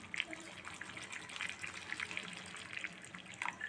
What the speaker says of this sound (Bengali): তবু আমি আরও একটু জল দিয়ে দেবো,